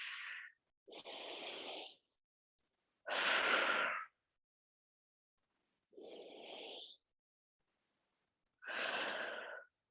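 Deep diaphragmatic breaths during a pilates and yoga fusion class, five separate long exhales and inhales with pauses of silence between, close and fairly loud.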